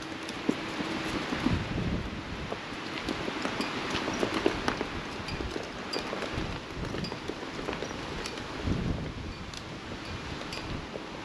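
Steady outdoor wind buffeting with rustling gusts and scattered soft knocks at a lakeside campground on a cool day, fairly loud and continuous, with no voices.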